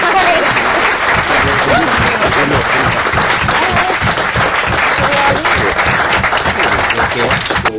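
Sustained loud applause from a crowd, dense clapping throughout with no pause.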